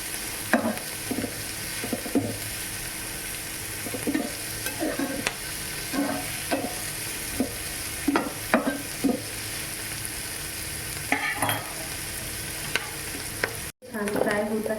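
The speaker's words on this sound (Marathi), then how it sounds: "छान फ्राय होत आहे." Chopped onion fries in a pan for paneer chilli under a constant, loud sizzling hiss. A spatula stirs and scrapes against the pan again and again in an irregular rhythm, close up, with no speech.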